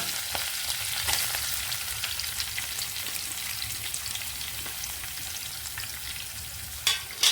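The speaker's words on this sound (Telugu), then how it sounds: "ఇప్పుడు ఉల్లిపాయ ముక్కలు వేసేద్దామండి." Onion pieces sizzle steadily in a hot frying pan while a Telugu chamadumpala allam karam curry is cooked, a constant close crackle with a couple of brief stirring clatters near the end.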